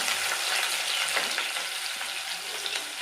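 Onions fry in a hot pan for chicken curry, giving off a loud, continuous sizzle with faint stirring scrapes and no voices.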